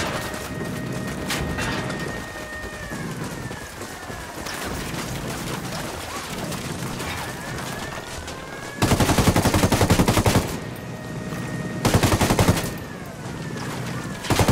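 Bursts of sniper and automatic gunfire in the video game Ghost Recon Wildlands, sharp repeated cracks running through the scene with two loud dense volleys near the end over a rumbling background.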